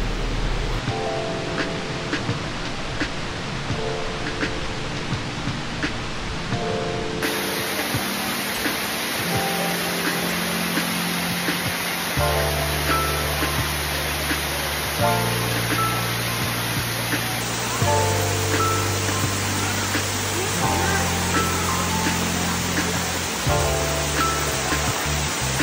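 A waterfall in the wild, renowned for its unusual natural shape, roaring as a dense, steady rush of falling water that stays loud and unbroken, with faint music playing beneath.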